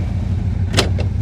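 A 1966 Ford Country Sedan wagon rolls along with a steady low engine rumble, broken by a couple of brief clunks or squeaks near the end, loud and close.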